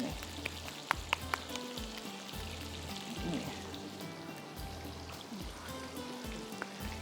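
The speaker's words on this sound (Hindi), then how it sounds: "चलें अब इसको फ्राई करती जाती हूँ, निकाल रही जा रही हूँ।" Beef kebabs, flattened and cooked slowly, fry in a pan with a continuous crackling sizzle dotted by sharp pops and light clinks, fairly close and steady throughout.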